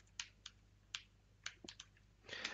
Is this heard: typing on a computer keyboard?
yes